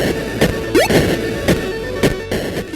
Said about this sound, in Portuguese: Esse é o som do Pac-Man.